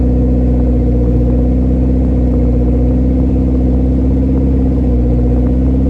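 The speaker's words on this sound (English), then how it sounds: "Let's see if we bring up the RPMs" A turbocharged Honda engine held at raised RPM during overheating troubleshooting, a loud, steady close-up drone with a constant rumbling hum and no pauses.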